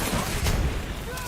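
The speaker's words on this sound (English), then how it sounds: "Frag grenade." A frag grenade explodes in a shooter video game, a short dense blast of broadband noise that swells and fades quickly amid ongoing game sounds.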